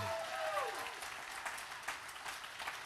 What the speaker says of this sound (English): clap your hands like you got some energy